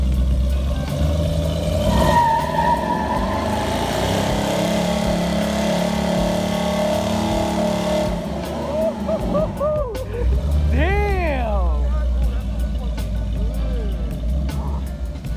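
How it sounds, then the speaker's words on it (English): A 1933 Ford's engine roars and revs hard during a burnout, loud and close, with sustained engine drone giving way to rising, squealing chirps near the end. "asked if he could do a donut or a burnout. I was like, yeah, of course, let's do it. So he lights it up."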